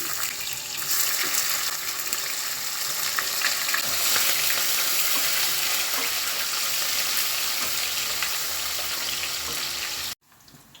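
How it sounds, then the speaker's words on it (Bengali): Onions hit hot oil in a wok seasoned with black cumin, bay leaf, cinnamon and cardamom, giving an intense, close, steady sizzle that runs unbroken for about ten seconds before cutting off abruptly. "তেল গরম হয়ে গেছে পেঁয়াজ দিয়ে দিচ্ছি"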